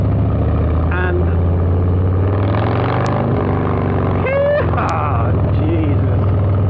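A 2022 Harley-Davidson Low Rider S fitted with a TBR exhaust rumbles steadily on a test ride, its deep engine drone loud and continuous with wind noise while the rider talks over it.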